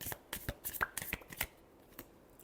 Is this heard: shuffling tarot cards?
yes